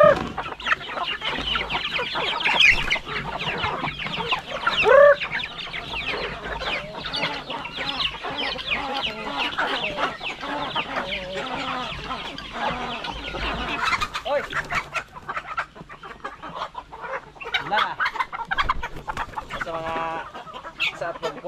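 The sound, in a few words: chickens clucking on a farm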